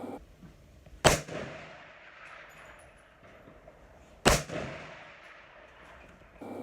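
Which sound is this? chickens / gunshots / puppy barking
gunshots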